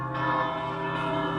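Church bells ring steadily during a planned moment of silence at the JFK 50th anniversary commemoration, a sustained tolling whose overlapping tones hang together throughout.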